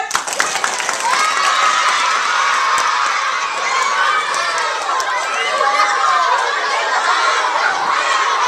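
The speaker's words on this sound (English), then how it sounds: "when you applaud, it has to be very loud. Let's practice." A children's audience at an environmental puppet show cheers and applauds loudly, a dense, sustained wash of shrieks, shouting and clapping that stays steady and close for several seconds.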